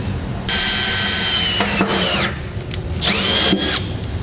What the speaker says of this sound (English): we're going to drill a pilot hole and then come back and enlarge it to the full 9/16